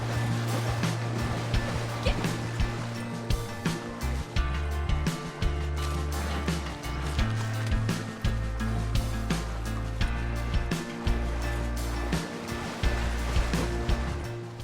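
A horse wading and splashing through a lake in Red Dead Online, with continuous rolling water and a rhythmic series of repeated splashes throughout.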